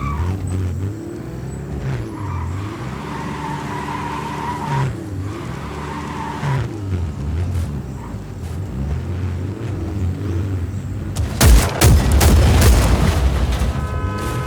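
A buggy drives in Just Cause 4, its engine droning and revving steadily with skids, then shotgun blasts and crashing booms erupt loudly near the end.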